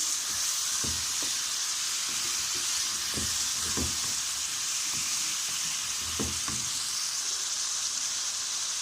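Chicken frying in a pan with tomatoes and green chillies gives a steady, hissing sizzle, broken by occasional stirring scrapes and spoon knocks and heard without any talk.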